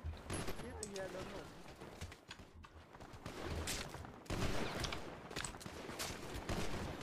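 Gunfire in the video game GTA V roleplay, dense overlapping bursts and rapid shots filling the whole stretch at steady loudness, with a voice talking over it.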